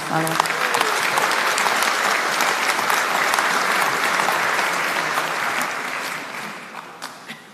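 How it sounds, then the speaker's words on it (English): A loud, dense round of applause from a crowd at a community launch event in New Zealand, honouring a government minister, full and continuous at first, then gradually thinning and fading toward the close. "just a round of applause for Honourable Albita Soa William Seo"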